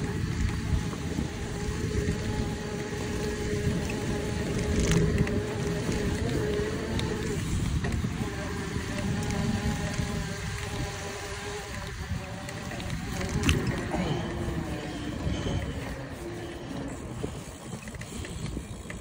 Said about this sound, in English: We're riding through wet sand.